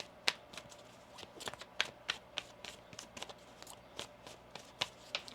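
Tarot cards are handled and shuffled close up, with a series of quick, crisp flicks and taps at an uneven rhythm, quiet and without talk.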